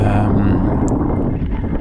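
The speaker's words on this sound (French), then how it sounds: "Regardez le vent, regardez ce vent sur le côté." A strong side wind blows across a cyclo-cross race course at Libourne, buffeting the microphone with a loud, rumbling roar over a short moment.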